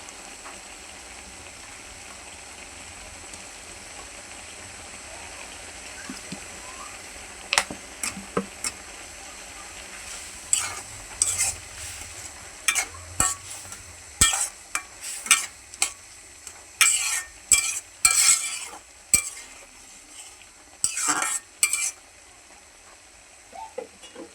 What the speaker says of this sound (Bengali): অল্প একটু সস দিয়ে লাড়া দিয়ে নামাই নিব